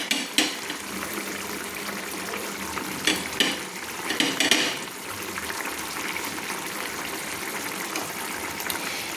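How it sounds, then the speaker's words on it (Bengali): Katla fish curry being stirred in a pan on low flame right after chopped coriander goes in, giving soft scraping and gentle sizzling with a few louder clatters early on, close and steady, with no voices. "ধনেপাতা দিয়ে আমি একটু নেড়ে"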